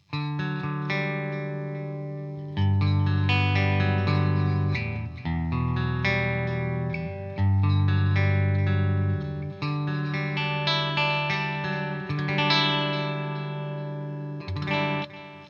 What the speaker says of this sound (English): This is the neck and middle position on a clean sound with a Harley Benton.